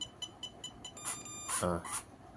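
Handheld remote control for a Robobuas Gagoh V2.2 sumo robot giving a few short, high electronic beeps after a long button press, close by, with faint background noise and a brief voice.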